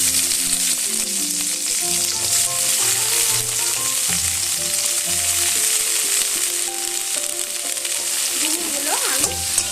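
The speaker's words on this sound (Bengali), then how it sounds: "এবার এই তেলের মধ্যেই আমি ডুমুরগুলো ভেজে নেব।" Figs fry in hot oil with a loud, dense, continuous sizzle that holds steady close up throughout, with faint stirring underneath.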